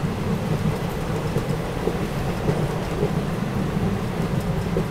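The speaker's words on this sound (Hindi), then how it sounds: "बारिश जो है वो ज़बरदस्त वाली चालू हो गई है" Heavy rain pours steadily in a dense, unbroken roar of hissing and pattering, loud and close throughout with no voices.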